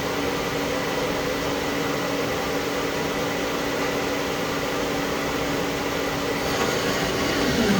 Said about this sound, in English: Subspindle sounds great also.